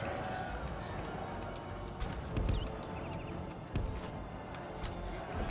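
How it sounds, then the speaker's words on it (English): Hooves clip-clop steadily as horses run in the video game Bree-land, a dense rhythmic drumming that stays fairly loud, with a soft whinny and a voice in the mix. "I have the horses run."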